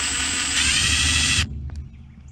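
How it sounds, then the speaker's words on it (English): A loud, steady electric drill whine runs for about a second and a half drilling a hole in a Coke bottle cap, then cuts off abruptly, leaving a few faint clicks and handling noises. "First thing I'm gonna do is drill a hole on"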